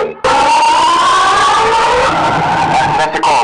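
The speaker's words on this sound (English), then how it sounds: "That's the car race." A handheld gadget's car race sound effect plays loud and electronic, with a continuous revving engine tone and screeching, crowd-like noise that cuts in abruptly and runs without a break.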